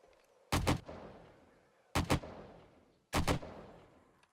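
Three separate loud, close gunshot bursts in 7 Days to Die, each a quick double crack followed by a fading echoing tail, spaced about a second and a half apart against a quiet background.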